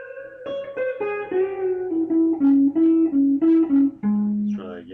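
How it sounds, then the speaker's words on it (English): Blues lick on electric guitar, with a string bend followed by a run of short, clearly picked notes stepping downward, each note ringing out and closing on a final sustained note. "first of all, the lick sounds like this."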